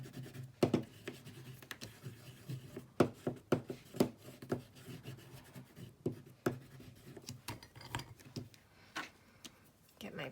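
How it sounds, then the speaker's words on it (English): A Neocolor wax pastel crayon colors on paper, giving soft, close scratchy strokes in an irregular rhythm with faint background noise. "This is actually a Neocolor, so I'm just going to color that on here."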